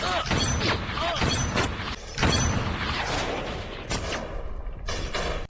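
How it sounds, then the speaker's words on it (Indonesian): Snipers in a film trade gunfire: several sharp, booming shots ring out amid a dense, noisy action-film soundtrack, with some voices mixed in. "Akhirnya mereka saling tembak."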